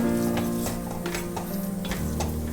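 Ground spices such as coriander, chilli, garam masala, pepper and turmeric frying and being stirred in a pan for a Kerala jackfruit mappas, a steady close sizzle with a few light clicks of the spoon.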